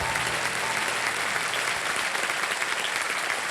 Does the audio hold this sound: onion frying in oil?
no